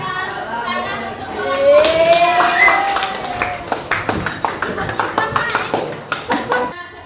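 Students in a classroom clap after a small-group discussion, a ragged burst of hand claps rising and then thinning into scattered individual claps, mixed with children's chatter and an adult voice.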